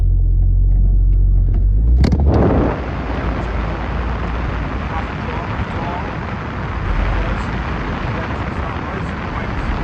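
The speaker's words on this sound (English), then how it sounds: "I'm stuck in traffic." A Ford RS2000 sits idling in traffic while running hot, its engine a low steady rumble after a brief louder burst at the start, continuing evenly throughout.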